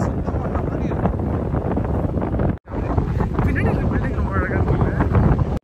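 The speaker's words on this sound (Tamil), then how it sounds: "பயங்கர காற்று, அதில் வந்து ரொம்ப இறைச்சலாக கேட்டுச்சு" Strong wind at a Gold Coast beach in Australia roars loudly and continuously against the microphone, with a rough buffeting rumble that cuts out for an instant midway.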